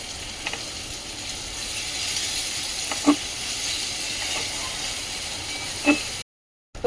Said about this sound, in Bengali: মশলাটা একটু ফুটে গেছে এখন দিয়ে দেবো বেগুন একটা একটা করে বেগুনগুলো দিয়ে দেবো